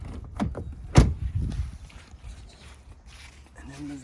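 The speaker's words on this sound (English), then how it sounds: "Door open there." Rivian R1T pickup's driver's-side gear tunnel door swinging open, a sharp thunk of the latch release near the start, followed by softer mechanical rustle and faint background noise.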